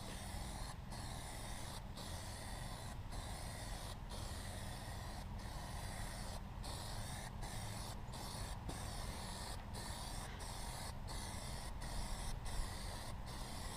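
An aerosol can of Plasti Dip sprays a dark coat onto silver wheel rims in a steady, continuous hiss. About a dozen brief gaps break it at regular intervals as the nozzle is released and pressed again.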